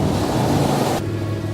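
Ocean waves wash onto Sandy Hook beach at Raritan Bay, heard as a brief, steady broadband rush of surf that eases slightly partway through.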